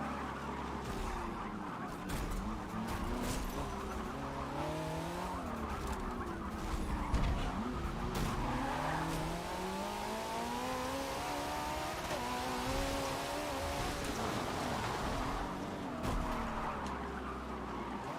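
Racing cars in the Forza Motorsport 7 video game, including an Alfa Romeo in an R Class online race, rev and shift with rising and falling engine whines, tires squealing at times, continuous and fairly loud without talk.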